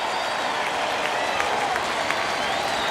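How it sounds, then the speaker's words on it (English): Sold-out baseball crowd at a Nationals vs Phillies game, the night the Phillies clinched the NL East, cheering and applauding with rally towels waving; a steady, loud roar of applause and crowd noise throughout with no break. "Sold out crowd whipping those rally towels around."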